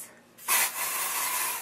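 Hairspray from a lightly shaken can, sprayed over the top of the hair to lift it at the roots: one short, close, soft hiss starting after a brief rub, then holding steady to the end.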